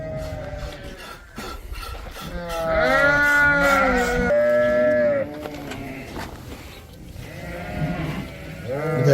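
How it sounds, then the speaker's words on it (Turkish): Lambs and sheep on a farm bleat repeatedly in loud, wavering calls, several animals overlapping close by, with some background noise between the calls. "kardeşimin satılık kuzular da var"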